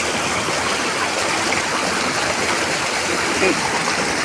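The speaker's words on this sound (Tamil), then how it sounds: "இந்த மலையில் இருந்து வரக்கூடிய ஒரு ஆறு. இந்த ஆற்று பேர் கல்லாறு." The Kallaru river flows down from the Javadhu hills, a loud, continuous rushing of water close by.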